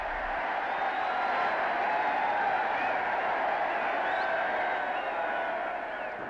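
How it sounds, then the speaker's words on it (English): A large crowd cheers Queen Elizabeth II as she appears on the palace balcony after her coronation, a steady, distant roar of voices that holds at an even level throughout. "Later, they joined her on the balcony to acknowledge the crowds."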